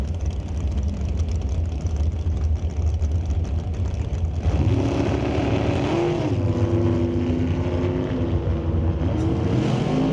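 Dragsters roaring down an NHRA drag strip at the Canadian SPORTSnationals, one a black Rad Torque Systems car: a loud, unbroken engine howl fills the whole stretch, its tone rising into strong pitched whines partway through.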